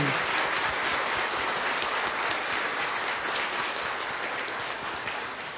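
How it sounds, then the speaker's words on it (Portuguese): A church congregation claps steadily and continuously, a dense wash of applause that holds its level throughout before easing slightly at the end. "Vamos aplaudir essa mãe que nos deu colo"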